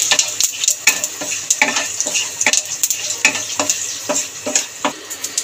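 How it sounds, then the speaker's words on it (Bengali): Whole cloves, cardamom, cinnamon and cumin seeds sizzling in hot oil in a pan, a steady crackling fry broken by regular scraping knocks of a spoon stirring the spices. "এবার এই গরম তেলের মধ্যে ফোড়নে দিয়ে দেব লং, এলাচ, দারচিনি আর গোটা জিরে। ফোড়নটা নেড়ে চেড়ে ভেজে নেব।"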